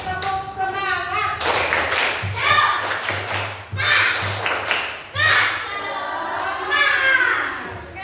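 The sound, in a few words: class doing a rhythmic spirit clap (tepuk semangat)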